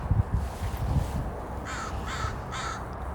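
Crows in a tree at Mercer Slough give three clear, harsh caws in quick succession, a little way off, over a low outdoor rumble.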